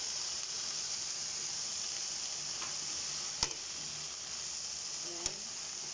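Pinakbet vegetables with chili stir-fry in a pan, giving a steady, faint sizzling hiss with a couple of sharp utensil clicks against the pan.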